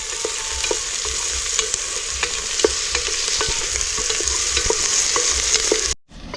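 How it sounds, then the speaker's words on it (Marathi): Tomato and onion stir-fried in a pan for pav bhaji, a steady close sizzle with sharp scrapes and taps from the stirring spoon, no speech, cutting off abruptly near the end. "टमाटा टाकून घेऊ टमाटा पण आपल्याला चांगलं परतून घ्यायचं आहे"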